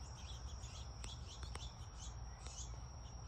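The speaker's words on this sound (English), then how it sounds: "I sit out here and listen to the birds and just enjoy the sights." Birds chirping in a home garden, faint scattered high tweets and a few sharp calls over a soft outdoor background hiss.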